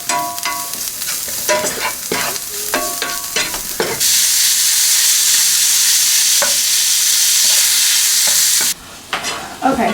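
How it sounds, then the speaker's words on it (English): Ground meat and garlic sauté in a hot pan for an empanada filling. A loud, continuous sizzle carries choppy spatula scrapes early on, then swells into a dense hiss and drops off briefly near the end. "Saute for 2 to 3 minutes, and then in the center add your garlic."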